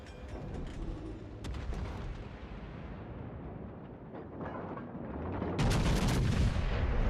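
In World of Warships, heavy naval gunfire booms under a dense, continuous rumble of battle. A louder burst of several close salvos swells near the end.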